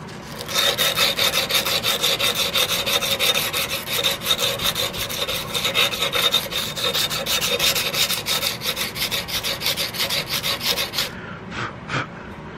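Sandpaper rubbed rapidly back and forth over a muzzleloader butt plate, a close, loud rhythmic rasping of quick strokes that stops near the end with a few last scrapes.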